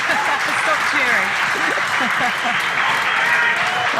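An audience at a billiards match breaks into loud, sustained applause and cheering that continues throughout, with voices shouting and talking mixed into the clapping.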